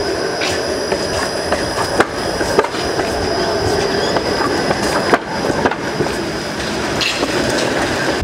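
Flexity low-floor tram cabin during a rough ride: a loud, continuous rumbling roar with rattling, clanking jolts, and the squealing screech of wheels on rail throughout.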